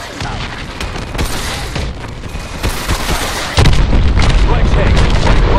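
Missile strikes on the hard points of a hydroelectric dam in Call of Duty: Advanced Warfare: heavy booms and bursts over a dense, roaring game mix, growing louder near the end, with radio voices talking underneath.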